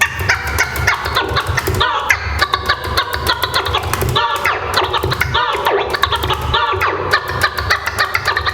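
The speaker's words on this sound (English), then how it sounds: "And you have the chirp scratches." Chirp scratches on a DJ turntable, a rapid run of short rubbery forward-and-back record scrapes over a thumping beat, loud and close.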